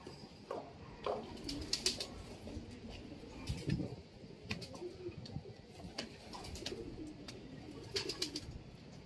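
Pigeons coo softly, with scattered chirps from other birds, fairly distant and quiet amid light outdoor ambience.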